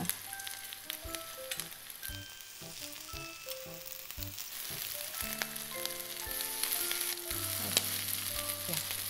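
Shrimp tsukune balls fry steadily in a pan with a busy, close sizzle and crackle, while occasional clinks and knocks from turning them cut through.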